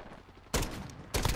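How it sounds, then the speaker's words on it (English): Two sharp, loud bursts of gunfire crack about half a second apart during a Modern Warfare match, with multiple players shooting, over a low bed of game noise. "multiple people are shooting at you"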